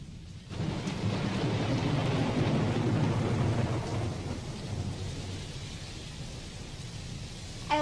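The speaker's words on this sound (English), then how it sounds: "I love the combination of rain and thunder." Steady rain with deep rolling thunder opens The Doors' Riders on the Storm, a broad continuous wash that stays loud and full throughout, with a brief bright keyboard note arriving at the very end.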